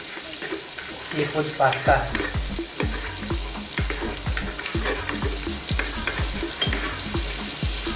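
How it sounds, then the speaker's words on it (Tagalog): Garlic sautés in a hot pan for Filipino-style seafood spaghetti, a constant sizzle punctuated by rhythmic scraping and tapping of a spatula roughly every third of a second, with a brief spoken phrase near the start. "Sulugan din natin yung garlic"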